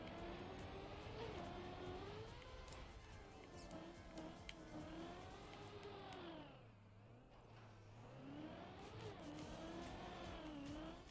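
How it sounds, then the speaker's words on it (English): Trash truck passing outside, a low engine rumble with rising and falling pitch that dips briefly midway and then swells again, faint and distant, with no talk. "You can't hear me over a trash truck?"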